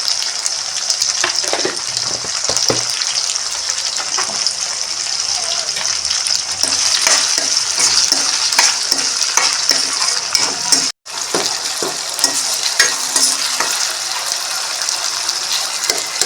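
Tomatoes sauté with a little salt in a pan, a loud, close, continuous sizzle and bubbling with repeated spoon stirs and scrapes, broken by one brief silent gap, with no voices.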